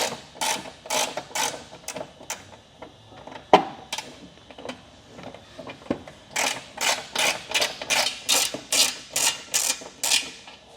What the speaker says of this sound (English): we're going to start by loosening the bolt in the crossbar using our smaller Allen key